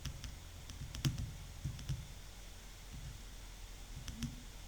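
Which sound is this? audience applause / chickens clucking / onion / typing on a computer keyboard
typing on a computer keyboard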